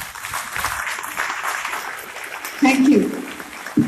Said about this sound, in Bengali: আমরা কি সবাই একটু দাঁড়িয়ে কালিকাদার জন্য হাততালি দিতে পারি?